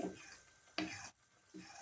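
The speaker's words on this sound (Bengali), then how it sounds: "তেল গরম হয়ে গেছে বন্ধুরা। আমি এই যে মালপোয়া ব্যাটারটা দিচ্ছি।" Jackfruit malpua batter goes into hot oil in a wide pan, faint sizzling bursts and stirring scrapes coming in short separate spurts.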